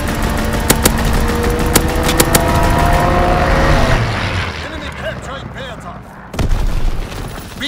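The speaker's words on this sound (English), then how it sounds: "Fighter pilot inbound, strafing the target." Fighter aircraft strafing run in Call of Duty: WWII multiplayer domination on the Shipment 1944 map: a dense, loud wash of gunfire bursts, engine roar and booms, thinning after a few seconds and then a sharp blast near the end, with game voice callouts mixed in.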